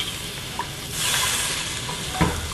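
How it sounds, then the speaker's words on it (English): A beef stroganoff pan sauce of vermouth and beef stock brought to a high boil, giving a steady bubbling sizzle with a brief stirring clatter near the end, heard close and fairly loud. "We're going to bring that up to a good high boil."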